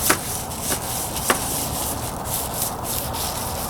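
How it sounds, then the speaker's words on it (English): Sandpaper rubs rhythmically across a plastic car headlight lens during restoration, close and steady scraping strokes with a few sharper taps, no voices. "What we're doing at this point is literally sanding off a layer of plastic."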